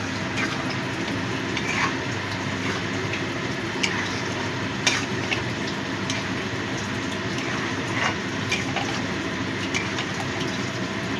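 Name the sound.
stirring and mixing soy chunk (Nutrela) curry in pan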